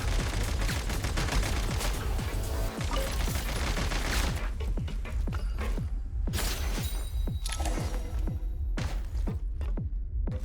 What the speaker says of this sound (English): I hear gunfire, but where is it coming from?